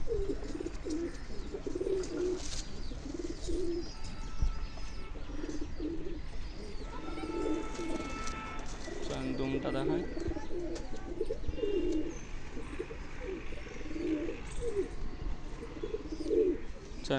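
A cock pigeon coos in a loft full of pigeons, its throaty rolling calls repeating in waves close by and mixing with other coos and occasional chirps throughout.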